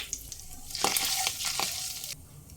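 Ginger paste and chopped green chilies fry in oil with panch phoron for a vegetable dal, a soft, close sizzle that swells into bursts of spattering crackle midway before easing off.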